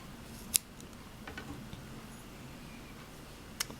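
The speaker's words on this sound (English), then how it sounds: "and cut the yarn" Scissors snip crochet yarn in two crisp, close clicks about three seconds apart against a quiet background.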